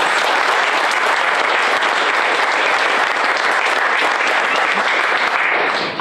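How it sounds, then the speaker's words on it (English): A large crowd at a speedway press conference applauds loudly and steadily, a dense wash of clapping that holds its level throughout before tapering slightly at the very end. "I think that deserves a round of applause."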